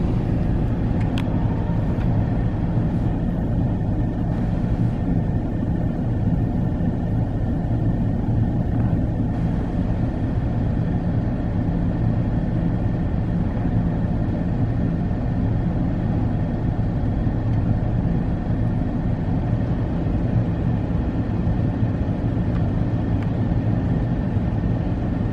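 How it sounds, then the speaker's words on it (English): Continuous road noise from a car driving home along a Colorado road after a morning mule deer hunt, a steady low rumble of engine and tires throughout with no talking. "I'm driving home"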